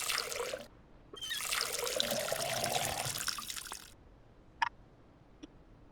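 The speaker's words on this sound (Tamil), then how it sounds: "NEET water. தண்ணி ஊத்துறா." Water pours in a video game about dealing drugs, heard as a steady trickling rush that runs about half a second, pauses, then flows for nearly three seconds before stopping. Two faint clicks follow.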